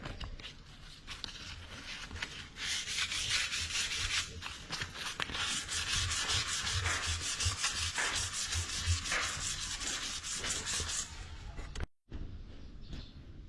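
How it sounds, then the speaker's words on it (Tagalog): Grout sanded by hand with 400-grit sandpaper, a steady close-up scratching rub that runs nonstop for about eleven seconds, then stops abruptly with a brief quieter tail. "nililiha po namin ito ng mababang klase ng grit na liha"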